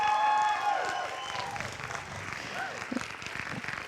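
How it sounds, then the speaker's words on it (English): An audience at a teen theater presentation of Guys and Dolls Jr. applauds, the clapping moderate and scattered. A voice speaks over it at the start and a few scattered shouts rise from the crowd. "So please give a round of applause for the artistic director, Teresa Lee."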